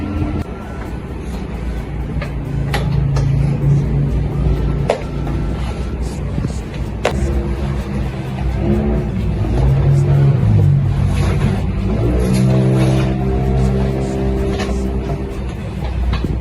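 Town street traffic, a continuous roar of passing engines and rumbling vehicles with sharp clicks and occasional rising revs, loud and close, thick with overlapping motion throughout.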